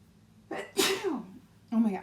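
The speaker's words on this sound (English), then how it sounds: "I'll sneeze." A single person sneezes indoors, with a short intake of breath, a sharp close burst, then a brief vocal follow-up sound, fairly quiet overall.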